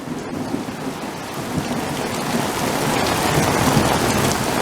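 Heavy rain pours steadily, with deep rumbling thunder rolling underneath, loud and close, no voices.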